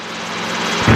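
Helicopter in flight during an introductory lesson, a steady rotor and engine drone with low thumping blade pulses that grows slightly louder and heavier toward the end, with no talk.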